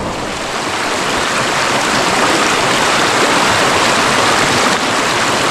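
The Genal river rushes close by in a steady, loud, broadband wash of flowing water, with no voices over it.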